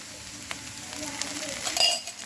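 Green peas and potatoes frying in a pan, a steady soft sizzle with light scraping and a clink of a spoon near the end.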